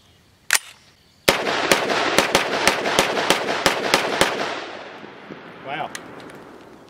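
A CMMG Banshee .45 ACP AR pistol firing Doubletap 185 grain bonded jacketed hollow point self-defense rounds: a single loud shot, then a rapid string of about ten sharp reports, with ringing decay and faint speech after.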